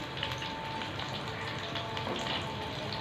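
Roll or samosa sheets frying in ghee, turned to brown on both sides: a steady, close hiss of sizzling fat, soft and continuous with no talk.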